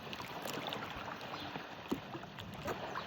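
Water laps and splashes against a small boat, with soft knocks and faint wind noise, fairly quiet and close.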